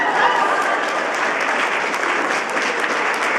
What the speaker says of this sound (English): okay, you guys can clap